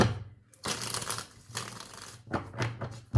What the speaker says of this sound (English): Do we shuffle? Yeah, we'll do one shuffle.